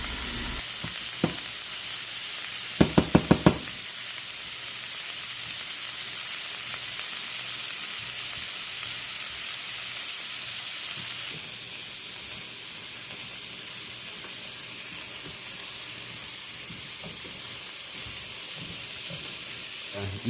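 Garlic sizzling steadily in a hot pan, a broad continuous frying hiss that runs throughout, with a few brief clinks of utensils early on.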